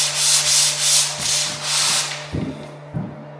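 Hand sanding of dried drywall joint compound on a taped angle joint: repeated rhythmic rasping strokes, loud and close, with a few duller knocks and scuffs near the end over a steady low hum, with no talking.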